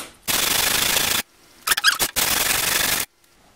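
Abrasive strokes of 800-grit sandpaper rubbing on a Stanley No. 80 scraper holder under restoration, two long steady passes broken by a short pause with brief scraping, close and fairly loud with no talking.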